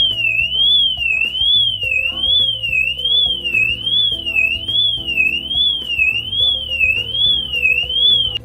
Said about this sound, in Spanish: el sonido de hasta 110 decibelios que se alcanza con esta sirena exterior